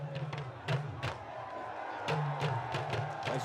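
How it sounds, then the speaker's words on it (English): Crowd noise at a Dambe boxing fight event, a steady roar of voices broken by sharp bursts of cheering and shouts, with repeated loud whoops rising above the mass of spectators. "As you see the crowd cheering for their favorites."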